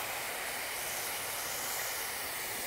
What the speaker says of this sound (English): and I'm gonna add some white wine